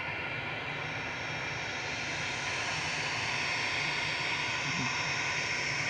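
A Lufthansa passenger jet at Manchester Airport gives off a steady, broadband engine roar that holds at an even, moderate level throughout with no talk over it.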